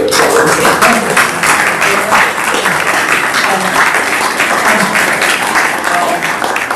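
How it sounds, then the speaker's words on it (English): An audience claps in a round of applause at a museum collection talk, dense steady clapping filling the room at close range, sustained loud for nearly seven seconds with a faint murmur of voices underneath. "Perhaps a round of applause prior to"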